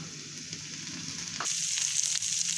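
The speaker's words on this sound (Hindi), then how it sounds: "अब मिर्ची जो है वो भी इसी तरह से फ्राई हो गई हैं।" Green chillies sautéing in oil in a pan for an omelet, a continuous close sizzle that grows louder and brighter partway through, with a brief stir, no talking.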